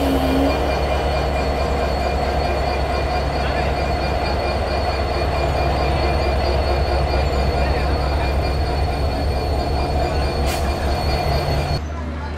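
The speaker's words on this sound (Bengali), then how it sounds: "আমাদের 733 নাম্বার তিতুমির এক্সপ্রেস ট্রেনের লোকোমোটিভ শান্টিং হচ্ছে।" A locomotive shunts and couples onto the 733 Titumir Express at Abdulpur Junction, giving a steady, loud rumble of engine and rolling stock with wheel squeal and clatter that holds for about twelve seconds before cutting off abruptly.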